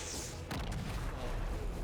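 Artillery fire in the tactical video game Menace: a heavy broadband boom lands about a third of the way in, followed by a rumbling tail over steady low battle noise.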